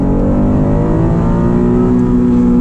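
Acura NSX sports car engine revving hard toward 8,000 RPM, a steady loud droning roar with a rising pitch held throughout, close and continuous with no talk over it.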